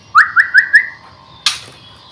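A murai bird sings four quick, bright whistled notes in a rising series, followed after a pause by a single sharp, harsher call, close and clear.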